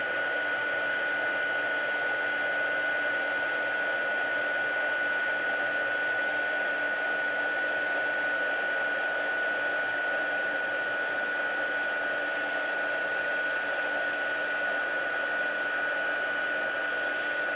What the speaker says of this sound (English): Take my heat gun. It's going to get a little noisy.